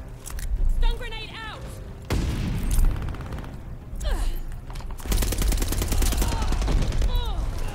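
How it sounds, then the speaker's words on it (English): Stun grenade blast and rapid gunfire in the Call of Duty Vanguard video game, a sudden loud burst followed by sustained crackling automatic fire, with voices and in-game speech under the shooting. "Stun grenade"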